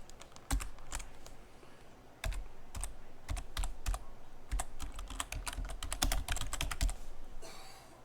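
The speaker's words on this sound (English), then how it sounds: "open a terminal and type Mint Upgrade check" Fast, uneven keystrokes on a computer keyboard as a command is typed into a Linux Mint terminal, close and fairly loud with short pauses and no voices.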